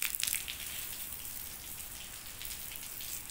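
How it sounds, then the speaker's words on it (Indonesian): Water from a hose splashes steadily onto a tiled terrace floor during outdoor cleaning, a continuous hissing spatter close by with a brief louder burst at the start. "Kita siram-siram biar bersih ya."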